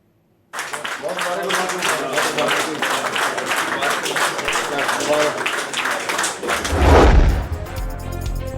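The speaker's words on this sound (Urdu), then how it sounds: "کابینہ اجلاس میں ارکان نے تالیاں بجا کر شہباز شریف کا خیر مقدم کیا" Members seated at a cabinet meeting applaud in a brisk, continuous patter of clapping for several seconds, ending with a heavy thud and a low rumble of movement.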